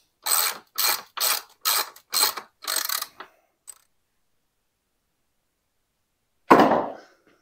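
Six quick, evenly spaced ratcheting bursts from a hand ratchet tightening bolts while building a wooden English field gate, then silence and one louder final clatter near the end.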